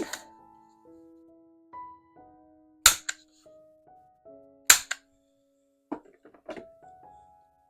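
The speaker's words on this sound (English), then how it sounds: "I think I'm gonna round the corners here of this little card" A corner rounder punch rounding the corners of a small paper card for a junk journal, giving a few sharp, close clicks and snaps spaced apart in an otherwise quiet room, with no voices.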